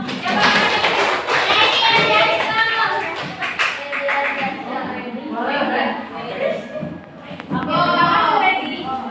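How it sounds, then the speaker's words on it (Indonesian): A classroom of children claps hands together in a lively burst, with young voices chattering throughout and a teacher speaking over the noise. "kita tepuk tangan dong."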